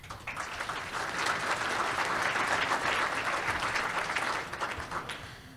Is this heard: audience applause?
yes